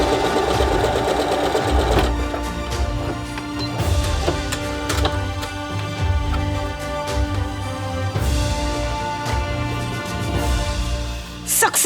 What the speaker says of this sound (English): So it is finally time to check if my new sewing machine works.